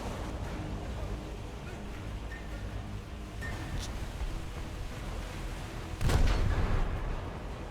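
Naval guns fire from a damaged-destroyer battle in War Thunder, with a steady bed of sea and engine rumble and one heavy, booming shot near the end.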